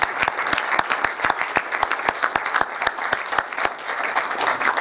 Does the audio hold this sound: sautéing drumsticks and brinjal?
no